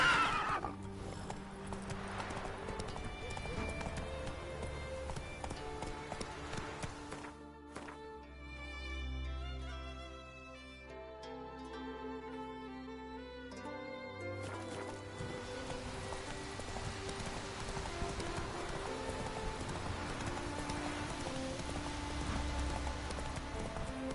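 A horse gallops and neighs in a video game, hooves clip-clopping steadily over rain-like ambience and music, with a short quieter break in the middle.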